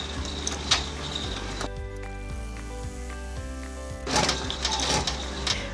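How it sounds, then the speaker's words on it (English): An embroidery machine stitches the placement line for the back of an in-the-hoop book buddy project, a fast mechanical whirring and clatter that pauses briefly, then resumes with rapid rhythmic needle punches close up. "I'm going to go ahead and run the placement stitch for the back portion of this book"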